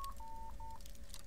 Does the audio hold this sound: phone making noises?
yes